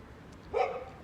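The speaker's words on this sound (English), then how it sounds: "My neighbor's dogs. They're kind of cool." A neighbor's dog gives a single short bark, fairly distant and moderately loud, over a quiet background.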